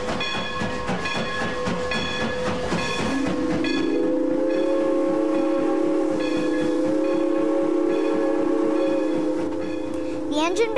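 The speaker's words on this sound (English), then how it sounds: "The engine begins the trip by pulling the cars in reverse." Train engine pulling cars in reverse, a steady rolling rumble of wheels on track with a sustained whistle blowing through the middle and end, with faint voices around.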